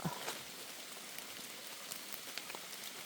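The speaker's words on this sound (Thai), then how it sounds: "ฝนตกพี่น้องผม ฝนตก" Steady rain falling in a forest during mushroom picking, a soft, even patter of drops on leaves and ground, fairly faint and continuous with no voices.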